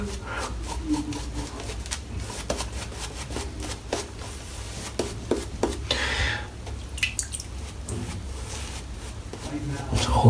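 Shaving brush (TF Custom) working water into shaving soap, a steady wet dabbing and swirling with squelchy drips, close and moderately quiet, with a voice talking over parts of it.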